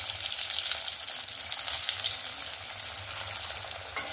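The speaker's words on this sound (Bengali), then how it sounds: "সমস্ত চপ ভাজা হয়ে গেছে" Chops deep-frying in hot oil give a steady, dense sizzle and crackle that runs without a break from start to finish, close and fairly loud, with no voices over it.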